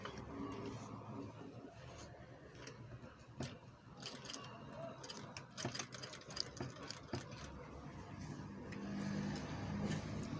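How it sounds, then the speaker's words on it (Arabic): Domestic sewing machine stitching a djellaba, a steady mechanical whirring with fine ticking, moderately loud and continuous throughout with a few sharp clicks, no talk over it. "نمشي نخيط على حساب الخياطه"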